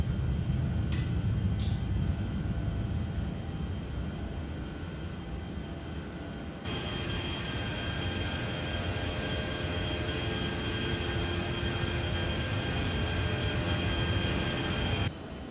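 An Embraer E-190 jet climbs out of Edinburgh in X-Plane 12, its engines a loud, continuous broadband roar that steps up sharply in brightness midway and holds steady, with two brief high beeps early on.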